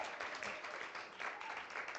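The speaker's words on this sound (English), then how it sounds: "Let's give Mr. Figelepi a round of applause." An audience at a community event in Gauteng gives a round of applause. The clapping is soft and distant, a continuous patter with gentle swells and no voice on top.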